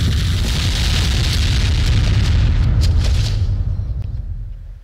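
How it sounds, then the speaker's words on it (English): Rocket strike explosion in a military combat simulator game: a loud, sustained rumbling blast with deep low boom and crackling debris, holding for several seconds before trailing off. "coming in on rocket strike"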